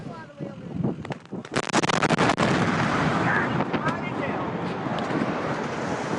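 A sudden, massive blast erupts after a moment of voices, followed by a sustained roaring rumble that slowly fades.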